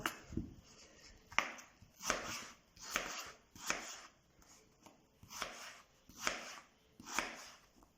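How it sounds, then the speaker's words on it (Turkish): A knife dices potatoes steadily on a cutting board, soft rhythmic thuds about once a second, close and fairly quiet. "Bu şekilde patateslerimizi doğrayalım."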